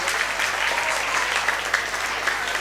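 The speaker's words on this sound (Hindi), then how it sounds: "सभी बच्चों के लिए एक बार जोरदार तालियां बजा दीजिए" Dense, steady applause fills the hall as an audience claps for children at a school annual function, loud and continuous with no voices breaking through.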